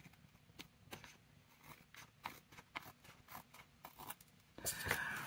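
Quiet, close scissor snips and crisp index card crunches in an irregular series, ending in a louder rustle.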